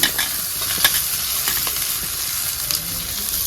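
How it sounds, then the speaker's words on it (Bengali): Chopped onions hiss and crackle steadily in hot oil in a home kitchen while a Bengali potato-fish curry is cooked, with a few sharp pops and light clinks from stirring. "এই যে পেঁয়াজ দিয়ে দিচ্ছি"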